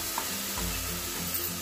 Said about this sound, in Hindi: तो मसाला हमारा अच्छे से भुन गया है।